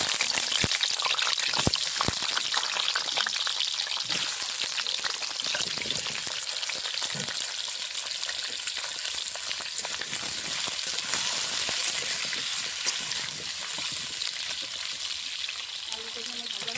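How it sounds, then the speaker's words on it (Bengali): Cut and washed potatoes fry in hot oil in a kadai, giving a steady, close, busy sizzle with crackles throughout and no voices. "তেল গরম হয়ে গেছে, কেটে ধুয়ে রাখা আলুগুলো ভেজে নেব।"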